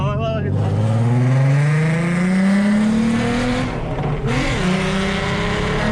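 Volkswagen Golf accelerating hard while drifting, engine note climbing steadily in pitch over a few seconds before a brief lift-off and renewed throttle, loud and close with tire noise underneath.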